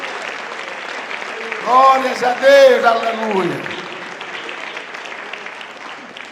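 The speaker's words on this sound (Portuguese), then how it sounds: "Vamos dar uma salva de palmas para o nosso Senhor Jesus Cristo." A church congregation bursts into loud applause that swells and fades over a few seconds, while a preacher's raised voice shouts praise over the clapping.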